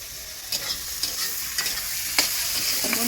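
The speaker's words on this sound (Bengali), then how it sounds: "তো দেখো প্রথমে পেঁয়াজটা ভেজে নিচ্ছি" Sliced onions fry in a pan for egg biryani, a continuous oily sizzle broken by several sharp scraping stirs of a spatula at irregular intervals, close and moderately loud.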